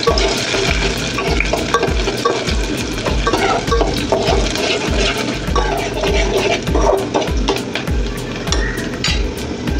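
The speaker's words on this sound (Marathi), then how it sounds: "पातेलं तापलेलंच आहे त्यामुळे तेल पण पटकन तापले। त्यात टाकते कांदा अर्धा चिरलेला" Half-chopped onion fries in hot oil in a heated pot for chicken soup, a loud continuous crackling sizzle with frequent sharp pops and stirring scrapes throughout.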